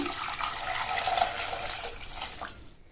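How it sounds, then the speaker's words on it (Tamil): Water runs steadily and splashes into a metal pressure cooker holding potatoes, a continuous filling sound that tapers off near the end. "வாஷ் பண்ண 300 கிராம் உருளைக்கிழங்க இந்த குக்கரில் சேர்த்துட்டு கிழங்கு முங்குற அளவுக்கு தண்ணி"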